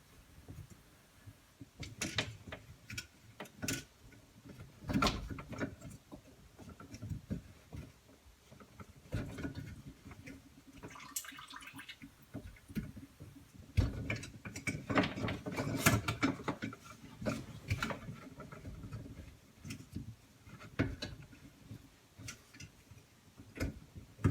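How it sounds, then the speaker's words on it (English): A plastic top retainer is threaded onto the sleeve of a UV water sterilizer, pushing an O-ring down over it. Irregular sharp ticks and clicks sound up close, with no talking. "Now I'm going to get the top retainer and thread this on, and that will help push that O-ring down over the sleeve."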